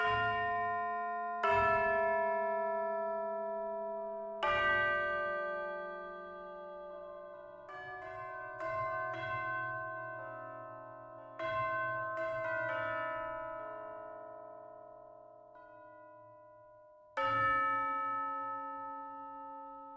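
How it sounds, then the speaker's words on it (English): Orchestral tubular bells struck one at a time, bright metallic tones with long shimmering sustain overlapping as a slow melodic line of about eight strikes, close and clear with no talking. "We've got tubular bells, which are one of my favorites."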